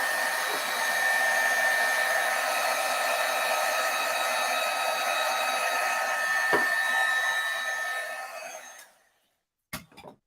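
A heat tool blows steadily and loudly for about nine seconds to dry VersaFine ink on a craft card, then cuts off, followed by a couple of brief clicks.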